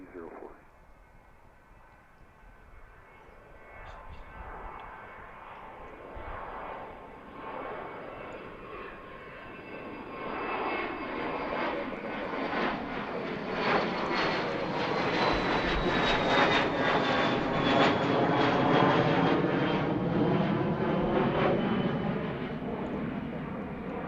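A Cessna Citation jet takes off at Allentown airport, its engine whine and roar building from distant to loud and sustained, with someone talking over it.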